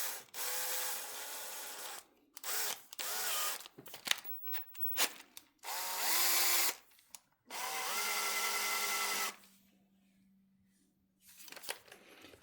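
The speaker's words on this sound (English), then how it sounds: "We can put that in our drill." A power drill whirs in several bursts of a few seconds each while repairing a Hummel roller mount thread, its pitch rising and falling, with clicks and short pauses between runs.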